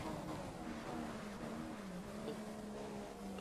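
A Formula 1 car engine in the racing game F1 2015 at the Malaysian Grand Prix, a continuous high-pitched whine that rises and falls slightly through corners, quiet and with no talking.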